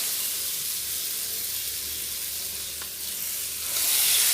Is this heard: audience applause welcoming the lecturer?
no